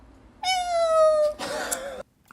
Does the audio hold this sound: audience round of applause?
no